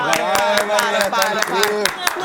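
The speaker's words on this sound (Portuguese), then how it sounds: "fazer uma salva de palmas" Rhythmic hand clapping of a small group, sharp regular claps close by with a person talking over them.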